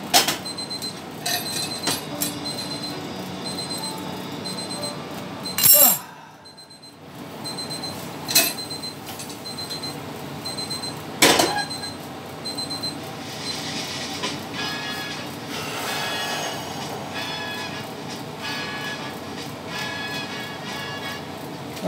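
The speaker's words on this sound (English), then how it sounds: "the alarm's going off" A kitchen timer alarm goes off during pizzelle making, sounding repeated steady electronic beeps over clattering and a loud clunk, with quiet stretches and a brief rush of noise in between.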